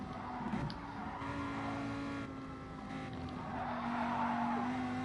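Tyres squeal in a sustained, wavering whine as a Lamborghini Huracan race car slides on hard tyres in the GT Sport racing game, with engine noise underneath.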